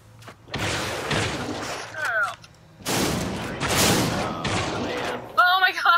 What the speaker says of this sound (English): Rockets everywhere!